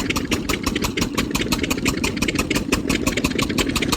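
An engine runs steadily at Bhavanisagar dam, a loud, close, continuous chugging drone with a rapid, even pulse and no pauses.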